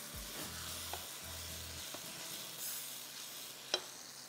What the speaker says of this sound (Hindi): इसको आपने थोड़ा सा 2 मिनट भूनना है।